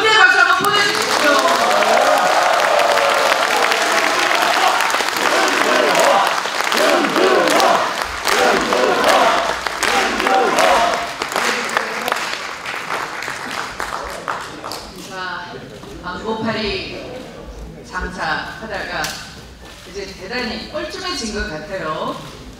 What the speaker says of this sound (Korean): 격려 박수 한번 보내주십시오